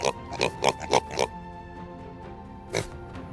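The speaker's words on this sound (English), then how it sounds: "Piglets have been updated in this version, and they also have a new set of sounds." Minecraft baby piglet sounds: a quick series of five short, high squeaky oinks in a steady rhythm, then a pause and one more squeal, close and clear over faint background music.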